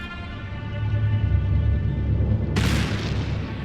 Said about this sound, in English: Whoa! What was that? Sounded like a gunshot.